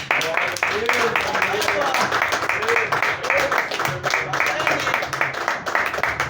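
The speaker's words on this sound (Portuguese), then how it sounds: "Em nome de Jesus, e as palmas no nome do Senhor." A church congregation claps in a steady rhythm, the many hands blending into a continuous beat under a voice speaking and singing over them.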